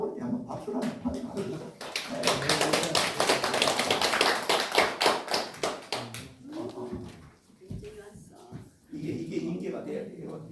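A church congregation claps during a Sunday worship service, a dense burst of hands that swells for a few seconds and then thins out, with voices talking over and around it.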